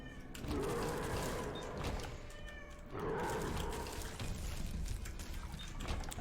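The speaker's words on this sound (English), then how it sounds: "This cat, dude." A cat meows twice in drawn-out calls, close by, over steady running water like a faucet, with no talk.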